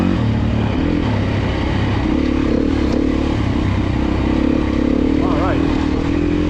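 A Beta 430 dirt bike engine runs steadily at a demo day, its low drone continuous throughout and close by, with a brief rev swell near the end, while people talk over it.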